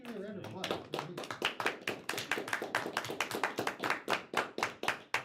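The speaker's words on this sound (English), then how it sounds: "let's give you a round of applause." A small group at a town board of trustees meeting gives a round of applause: sparse, distinct hand claps in an uneven rhythm lasting several seconds, close and fairly quiet, following a brief bit of talk at the start.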